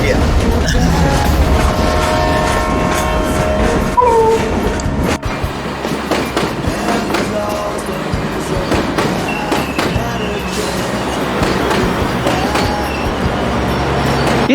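Ride aboard the Lehigh Gorge Scenic Railroad passenger train, a steady loud rumble of wheels on rails with clattering joints and brief metallic wheel squeals, continuous throughout.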